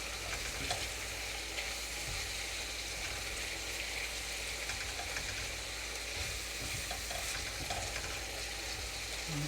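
Food frying steadily in a pan until golden brown, a constant close hiss of oil with faint occasional crackles and light stirring, even and unbroken throughout, no speech.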